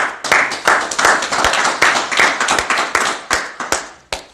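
Congregation at a church service clapping steadily together, a dense run of loud overlapping handclaps with no pauses, filling the room.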